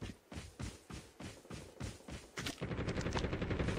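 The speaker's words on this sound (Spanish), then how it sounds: "Estoy escuchando disparos por ahí." Rapid bursts of gunfire from the shooter game Call of Duty Mobile, about eight sharp evenly spaced shots followed by a denser continuous volley, loud and close with no talk over it.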